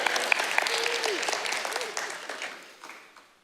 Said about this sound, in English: No applause for that?